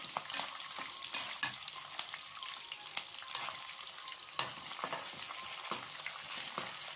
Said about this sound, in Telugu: ఇప్పుడైతే మనం కట్ చేసుకున్న ఈ పచ్చిమిర్చి, తర్వాత ఈ ఎండుమిర్చి కూడా వేసేసుకుంటున్నా